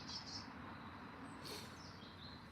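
Birds tweet near a churchyard with pine or conifer trees, giving a few faint, high chirps over a soft steady background hum of distant noise.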